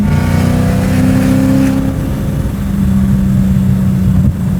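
A supercharged V8 swapped into a BMW E30 revs loudly up close, its deep engine roar rising and then holding at a steady high drone, with no talk over it.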